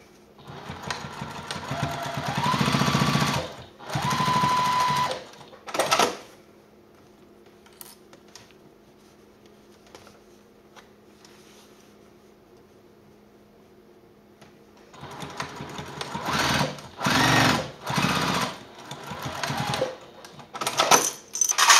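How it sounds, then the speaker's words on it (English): A sewing machine stitches the bottom edge of a fabric wallet with a 1/8 inch seam allowance, running in several short close bursts separated by quiet pauses. "wanna sew this bottom edge here in place with an 1/8 inch seam allowance"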